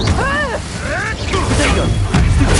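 Incendio fire spell cast in the Hogwarts Legacy video game: a loud burst of whooshing, crackling effects with swooping tonal sweeps, dense and continuous over about two and a half seconds.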